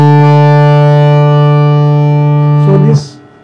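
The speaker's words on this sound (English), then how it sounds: "So in case of a kharjnar madi triple line harmonium," A kharj-nar-madi triple-line harmonium, three reed sets sounding together as one rich, buzzy sustained chord held steadily for nearly three seconds, close and loud, then breaking off with a short shift before cutting to quiet.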